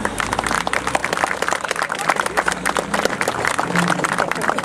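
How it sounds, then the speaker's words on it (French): A room of attendees applauds at a press conference on a Marleau intra-city bus project. The clapping is dense and continuous, with close, crisp, rapid claps and some crowd noise underneath. "J'aimerais qu'on l'applaudisse."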